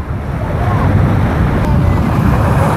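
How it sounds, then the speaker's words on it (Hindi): Sea waves surge and wash in on a shore, a loud, continuous roaring rush of surf mixed with gusty wind noise across the microphone. "देखिए समुद्र का पानी तेज़ होकर के आ रहा है"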